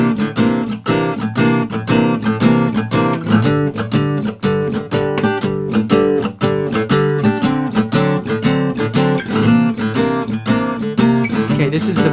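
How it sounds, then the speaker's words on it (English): A shuffle blues in G plays as a full, loud band-style groove with a steady swung rhythm and bright rhythmic chords, continuous for the whole stretch without talking. "Same old shuffle blues in G."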